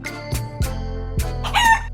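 Chickens in a coop clucking and crowing, several close, loud bursts in quick succession with a steady low hum underneath, no talk.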